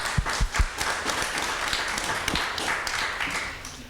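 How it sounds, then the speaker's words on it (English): A book launch audience gives warm applause, with a few sharp distinct claps at the start that blend into a steady patter that slowly thins out. "let's give her a warm round of applause again."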